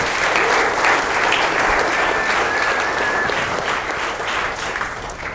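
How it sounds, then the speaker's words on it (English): Sustained audience applause, dense and loud, holding steady for several seconds with a faint whistle rising above the clapping partway through. "So give yourselves a round of applause"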